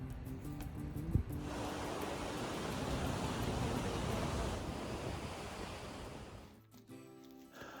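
Waves wash in on an empty sandy beach, a broad, steady surf roar that swells and rolls on for several seconds before fading, with some wind noise on the microphone.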